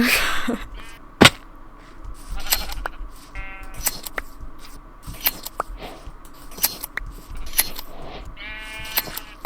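Several short sheep bleats from a video game repeat over a quiet background, mixed with sharp clicks and snipping sounds.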